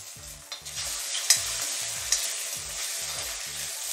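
Two eggs scrambled and fried in oil in a pan: a bright continuous sizzle with regular, evenly spaced spatula taps chopping the egg, close up and without speech.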